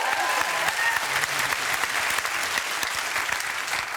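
A studio audience at a talk show breaks into a quick round of applause, a dense, loud patter of clapping that fills the whole stretch with scattered voices underneath.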